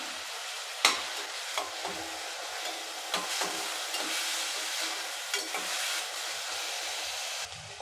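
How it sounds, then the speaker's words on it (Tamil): Chopped tomatoes and garlic sauté in a pan for a Tamil bitter gourd tamarind kulambu, giving a continuous close sizzle broken by several sharp spoon taps and stirring scrapes. "அதையும் சேர்த்து நல்லா வதக்கி விட்டுறலாம்."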